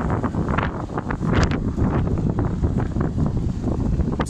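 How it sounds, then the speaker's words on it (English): Strong wind gusting across an open rooftop beside a Trane rooftop HVAC unit, a loud continuous roar with buffeting against the microphone, steady throughout with no speech. "God, it's windy."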